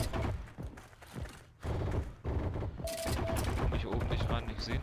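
Gunfire in a Heroes & Generals match on the Colmar Hamlet map, dense bursts of rapid shots and thuds, loud and close, with a German-speaking player talking over parts of it.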